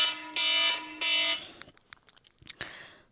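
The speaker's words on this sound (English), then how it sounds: "But that is my alarm" A phone alarm going off indoors: two loud, bright electronic tone bursts, then scattered quieter clicks and taps as it fades out, with no talking.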